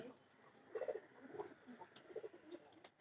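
Local desi pigeons coo softly in a small pigeon farm, a few low, throaty rolling coos in short bursts, faint and close, with a quiet background.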